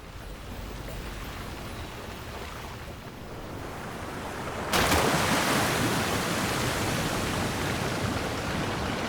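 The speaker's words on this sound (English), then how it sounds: "In comes the water." Rushing water pours in within the video game Genshin Impact, a steady broad whooshing wash that suddenly surges louder about halfway through and stays full, with no talking.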